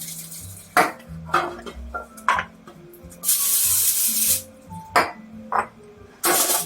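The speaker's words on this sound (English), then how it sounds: "A little cooking spray." Cooking spray hisses onto a foil-lined baking pan in a kitchen, one sustained spray burst amid scattered crinkles and taps of foil, close and fairly loud.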